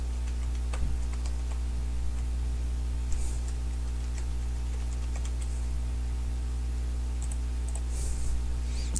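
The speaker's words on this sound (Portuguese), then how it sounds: "Deixa eu digitar rapidinho aqui." Quick typing on a computer keyboard, a steady run of light clicking keystrokes close by over a constant low electrical hum, with a few slightly louder taps.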